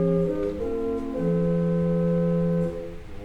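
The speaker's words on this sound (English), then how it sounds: "A flute tone, a bit like a recorder," Pipe organ flute stop, with a soft recorder-like tone, plays a few sustained notes that change pitch and hold steadily for several seconds, clear and unaccompanied by talking.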